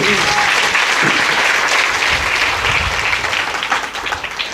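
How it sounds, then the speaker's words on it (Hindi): Devotees at a Shrimad Devi Bhagwat Katha religious discourse break into loud, sustained applause for the host family, the clapping dense and close before thinning slightly near the end. "इसके लिए एक जोरदार तालियां होनी चाहिए"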